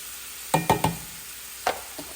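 Canned mushrooms stirred into a frying pan with green beans over lowered heat, giving a few short scraping strokes in a quick burst, then one more and a faint tap, over a soft background hiss.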